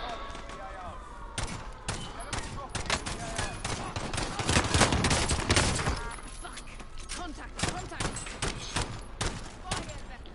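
Gunfire from a PS4 video game, with dense bursts of rapid shots and scattered single cracks through most of the span, loudest midway, while a player talks over the shooting.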